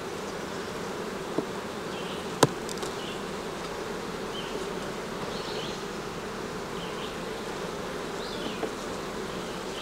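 Honeybees at an open hive with a queen excluder fill the air with a steady, dense buzz. A few faint clicks and knocks from the frames cut through now and then.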